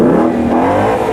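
A stage 2 tuned car with an aftermarket catback exhaust and midsection revs close by, a loud sustained growl held steady with no talk over it, at a supercar weekend sound-off.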